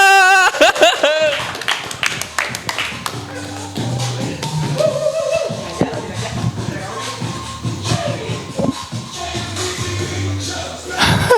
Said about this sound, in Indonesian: Tepuk tangan yang meriah buat Yuno bukan Yono